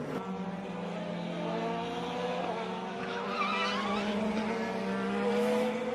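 An IndyCar race car spins out during a 2024 season race, its tires skidding in a sustained, loud squeal over the steady roar of the engine, holding strong through the whole stretch with no talk over it.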